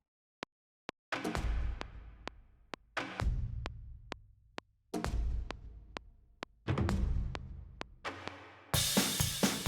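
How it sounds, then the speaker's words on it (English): Booming drum hits build up, deep timpani-like rolls and big tom strikes over sparse ticking clicks, growing louder and denser toward the end. "this half is going to build up with some timpani. There's some big toms"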